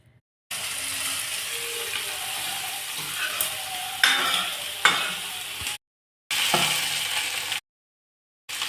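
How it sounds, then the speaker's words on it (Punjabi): Crackling sizzle of vegetables hitting hot oil, with scraping stirring and a few sharp clinks, cut by brief silent gaps. "ਪਹਿਲਾਂ ਆਪਾਂ ਸਬਜ਼ੀ ਨੂੰ ਤੜਕਾ ਲਾ ਲਈਏ"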